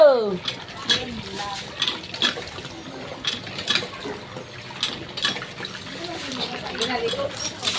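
Water being hand-pumped gushes and splashes irregularly in uneven bursts, close by, alongside intermittent voices.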